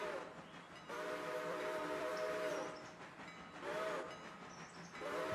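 A train whistle sounds in the railroad video game Railroader, three long steady blasts with short pauses between them, fairly faint over a low rolling rail rumble.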